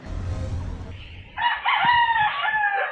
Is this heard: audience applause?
no